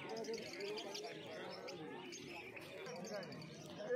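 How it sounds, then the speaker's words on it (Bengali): Blue, yellow-sided and pineapple conures crowd a cage at a bird market, giving scattered chirps and calls at moderate distance beneath someone talking and background bustle. "তো এই খাঁচার মধ্যে প্রচুর কনুর পাখি রয়েছে দেখতে পাচ্ছ।"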